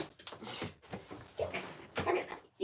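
A young puppy whimpering and squeaking indoors near a door, several short high whines and squeaks in irregular bursts, fairly close and clear.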